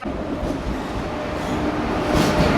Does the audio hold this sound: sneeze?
no